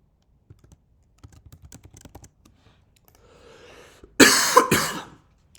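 Light, sparse keyboard taps click near a computer, followed by a short burst of harsh coughing from someone getting over a cold, the coughs much louder than the typing.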